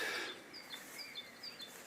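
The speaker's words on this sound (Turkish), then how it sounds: "Bu sesini duyuyorsunuz, bülbül sesini." A nightingale sings faintly outdoors, with thin high chirps and short whistles scattered over a quiet background.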